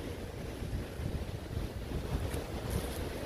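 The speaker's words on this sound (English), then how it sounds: "The wind is howling." Strong wind roaring on an exposed mountain top along a hiking trail, a constant heavy rumble buffeting the microphone, loud and unbroken with no talk.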